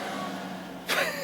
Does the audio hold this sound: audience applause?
no